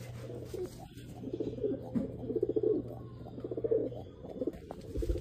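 Pigeons coo repeatedly in the morning in soft, rolling phrases, fairly close, over a low steady hum that stops near the end.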